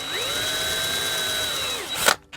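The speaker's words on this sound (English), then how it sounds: "Now I'm not going to drill too far into this" A power drill whirs steadily for about two seconds, spinning up and winding down as it bores into wood, followed by a brief clatter as it stops.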